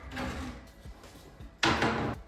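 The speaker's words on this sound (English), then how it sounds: "I can yank out these doors to pull out, and this workbench folds out." Folding doors on a garage wall workbench yanked open, a soft rattle and knock followed by a loud, sudden scraping bang of the panels swinging out close by.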